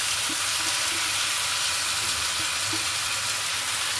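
Marinated mutton sizzles steadily in a hot pan for a homemade curry, a loud, continuous frying hiss with faint occasional stirring knocks and no talk.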